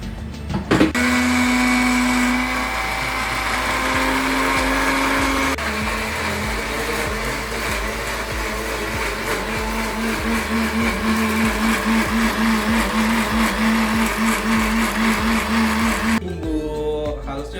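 A blender grinds chili spice paste with a little added water for sambal, a steady loud motor whir with a pitch that shifts as the load changes, running continuously for nearly the whole stretch before cutting off.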